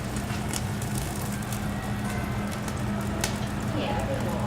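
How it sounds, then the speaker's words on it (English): Water added to a hot pan under a grilled cheese sandwich steams and sizzles, a steady, close hiss with crackling spits throughout, with a voice speaking over it. "I'm going to add a little bit more water, and I'm going to steam this up just a tad bit more."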